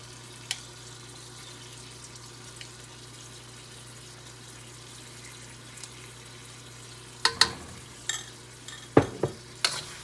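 Coconut milk being stirred into Thai green curry in a pot: a quiet low simmer, then a few sharp spatula scrapes and clanks toward the end, with no voices.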